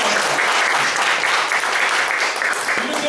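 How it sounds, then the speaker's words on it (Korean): Church congregation applauding a Friday accompanist during a Sunday service, dense sustained clapping filling the room, steady and loud for the whole stretch. "또 박수 한번 쳐드립니다."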